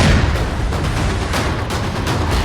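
Controlled blast demolishing a militant's house in the Muran area of Pulwama district, Jammu and Kashmir: a loud, sustained roar of noise with rumbling low end and crackling debris filling the whole stretch.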